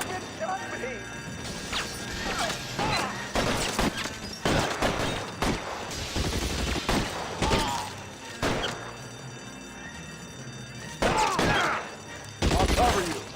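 Gunfire in the video game L.A. Noire erupts in scattered bursts during a building shootout, sharp cracks and crashes separated by pauses, with a voice speaking at points between the shots.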